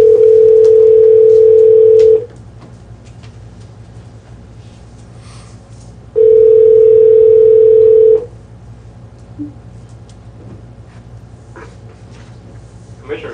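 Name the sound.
telephone dial tone on a speakerphone call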